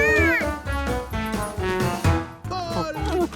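A cartoon cat meows and yowls several times in quick succession, loud and close, with drawn-out, wavering cries that bend up and down in pitch.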